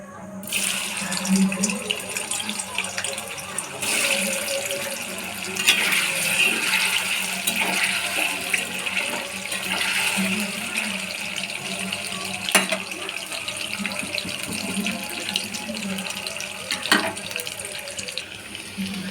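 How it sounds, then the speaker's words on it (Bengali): Paneer fries in hot white oil in a kadai, a steady loud hissing sizzle that continues without break, with occasional sharper crackles close by. "তেল গরম হয়ে গেছে এবার পনিরগুলোকে ভেজে নেবো"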